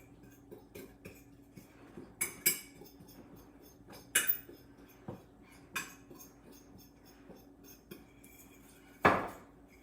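A spoon clinks and knocks against a bowl while cookie mixture made with ghee butter is stirred, giving scattered sharp taps and scrapes at an irregular pace with no talking.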